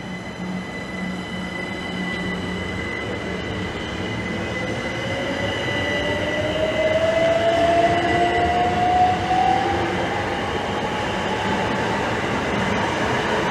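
Great Western Railway train passing at Maidenhead on the main line, a loud steady rolling rumble that swells midway with a rising squealing wheel tone.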